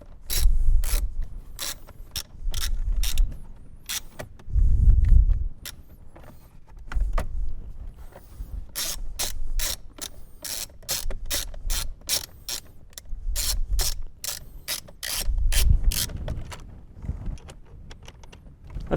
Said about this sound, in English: Let's loosen this bolt. Let's take it out completely.